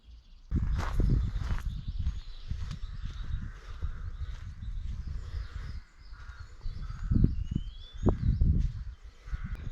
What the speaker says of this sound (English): you can hear birds. So many birds.